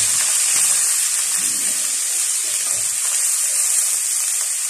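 Ginger garlic paste fries with onions in a pan, giving a loud, steady, close sizzle that continues unbroken with faint stirring underneath.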